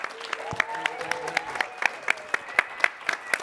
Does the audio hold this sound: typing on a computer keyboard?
no